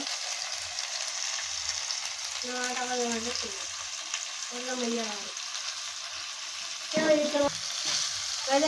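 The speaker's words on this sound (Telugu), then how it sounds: "అల్లం పసుపు వేసుకుంటున్నా నూనెలో" Ginger and turmeric fry in oil with a steady sizzling hiss and occasional stirring, while a person talks intermittently over the cooking sound nearby.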